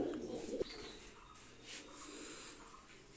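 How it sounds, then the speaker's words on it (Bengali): Low, soft cooing of a racing pigeon, a short rounded call near the start followed by quieter background rustle and faint chirps. "এই আর এক পেয়ার রানিং কবুতর নিয়ে আসলাম"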